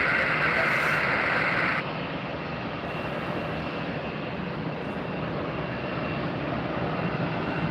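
A JetBlue jet airliner in Spotlight livery takes off at Tampa airport, a loud, continuous engine roar that is harsher for the first two seconds and then settles into a steady, broad rumble.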